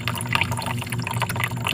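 Water flows and splashes continuously, close and moderately loud, with no pauses.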